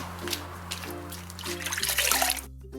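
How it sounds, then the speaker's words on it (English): Water from a bucket is poured and splashed over a car during washing before spray painting, a sloshing, trickling rush that swells near the end. "Then you need to grab a bucket of water and give it a good clean."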